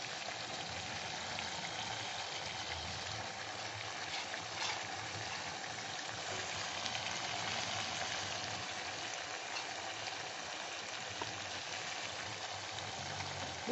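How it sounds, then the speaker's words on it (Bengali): Grated paneer fries in hot oil in a pan, a soft, continuous sizzle with a steady hiss and no pauses, fairly quiet and heard alone. "এইবার আমি এই গ্রেট করা পনিরগুলো দিয়ে দেবো সব।"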